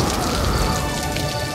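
Heavy rain pours down in a dense, steady hiss with constant patter, loud and unbroken with no voices.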